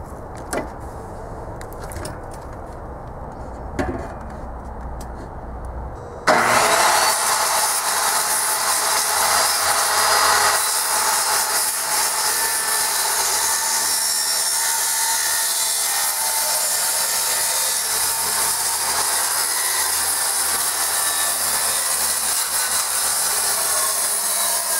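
A power tool cuts metal L brackets for a solar panel mount on a shipping container, a loud steady grinding rasp that starts suddenly after a few seconds of quiet and keeps running.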